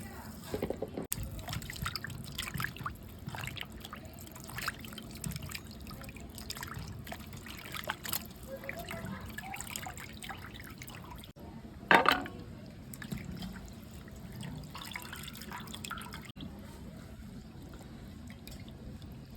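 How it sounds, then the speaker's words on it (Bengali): Pieces of meat for a Bengali-style Bihari chicken dish are rinsed under running water, giving a soft continuous trickle and splash in a home kitchen, with a brief louder splash near the end. "মাংসটা আমি ভালো করে জল দিয়ে ধুয়ে নিচ্ছি"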